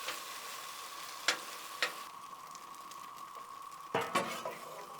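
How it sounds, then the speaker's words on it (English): Apple pie filling heating on a Blackstone griddle gives a steady, moderate sizzle throughout, broken by a few sharp utensil clinks and scrapes against the flat-top, with no one speaking. "And while that's going, that apple pie filling's heating up"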